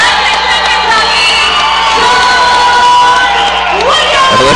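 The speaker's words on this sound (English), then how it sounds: "Listen to the Reaction MMA crowd." A large crowd cheers, whoops and shouts loudly and continuously for a fighter from Reaction MMA, Lexington, Kentucky, being introduced at an amateur MMA event, with children's yells mixed into the steady roar.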